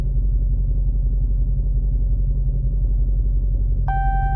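A Dodge Hellcat backs out of a garage, its engine giving a deep, loud, steady idle rumble close by, with a short electronic tone joining near the end.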